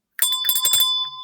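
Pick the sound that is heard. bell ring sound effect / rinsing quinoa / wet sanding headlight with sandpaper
bell ring sound effect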